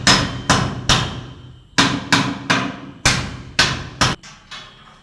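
A hammer strikes metal on a rooftop during welding work, nine sharp ringing blows in uneven groups of three, each one loud and close with a short decaying ring.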